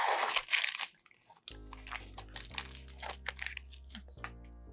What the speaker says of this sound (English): What I need to do is actually peel off the masking on each piece.